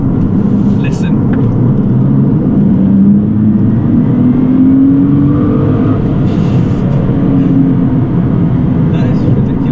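A Litchfield-tuned 620bhp Nissan GT-R revving loudly inside the cabin with a deep, continuous engine roar and wavering pitch swells. Faint voices come through in places.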